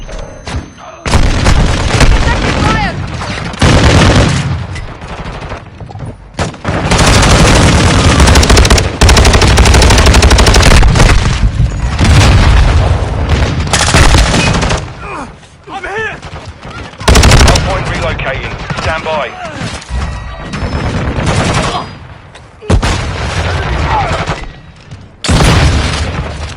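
Heavy gunfire from Call of Duty Modern Warfare 2 on PS5: long, dense bursts of automatic fire and booming explosions alternate with brief lulls, loud and close throughout, with some voices mixed in.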